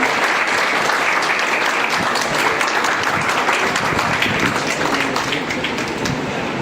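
A crowd claps continuously and loudly throughout at a Vande Bharat train launch, a dense, even roar of applause with no pauses.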